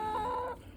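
A black hen in a warm garden gives a short, close cluck lasting under a second, then goes quiet.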